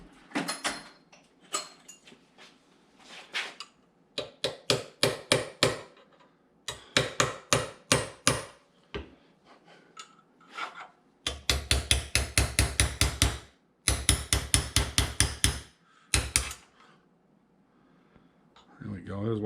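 A hammer strikes a small chisel against a steam engine main bearing in quick bursts of sharp metallic taps, several rapid volleys separated by brief silences, loud and close.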